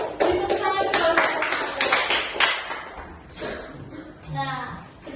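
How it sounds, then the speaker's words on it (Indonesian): Classroom applause for a student group, a burst of quick scattered claps from a small class of young pupils, mixed with voices and chatter throughout. "Beri tepuk tangan untuk kelompok"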